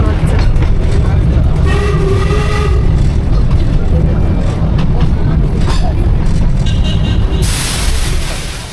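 The Darjeeling toy train, a coal-fired steam locomotive, running with a loud, continuous rumble and rattle of wheels and carriages, with horn-like tones rising midway and a hiss near the end, while people talk over it.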